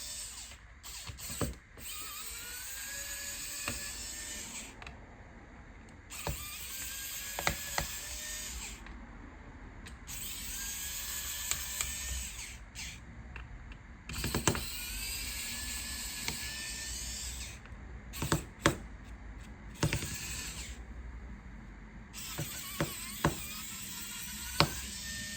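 A Phillips screwdriver unscrews the bottom cover screws of a Dell Latitude E7480 laptop, with repeated small metallic ratcheting clicks and scraping, brief taps and quiet gaps between turns, close up.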